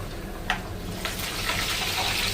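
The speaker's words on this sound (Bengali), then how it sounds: "শুধুমাত্র রসুন দিয়ে বাগার দিচ্ছি।" Garlic tempering (bagar) in hot oil for a curry gives a dense, steady sizzle and hiss close by, broken by a few brief sharp spatters.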